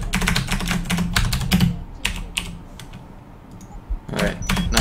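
Rapid clattering keystrokes on a computer keyboard, close and fairly loud, coming in dense bursts with a few short pauses between runs of typing.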